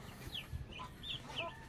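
Young Rhode Island chickens cluck softly several times in a quiet, faint farmyard setting, with no talk over them.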